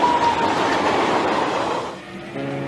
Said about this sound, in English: Tanks and other heavy equipment are moved in by train from Poland.